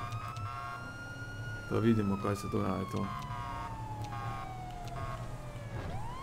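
Wailing police siren in GTA 5 (LSPDFR mod) sweeping continuously over low engine drone, with someone speaking briefly over it partway through.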